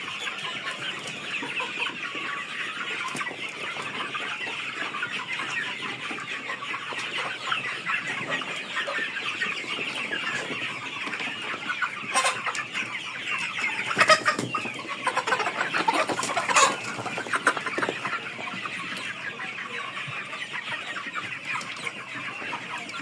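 Many CPF-3 (tiger) broiler chickens cluck and chatter together in a steady, continuous flock noise, with a few louder calls standing out midway.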